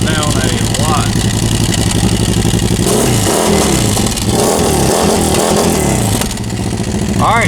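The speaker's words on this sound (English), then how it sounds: "Now we can crank it up and listen to it with the quiet core." A CFMOTO UFORCE 1000 side-by-side engine runs and revs with a quiet core exhaust fitted, a loud continuous throaty drone with several rises and falls in pitch.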